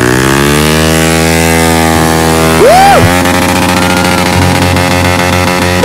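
A Royal Enfield Bullet motorcycle on an off-road trail, its engine close and loud with a steady throbbing idle, a quick rev blip rising and falling midway, then a rhythmic pulsing beat.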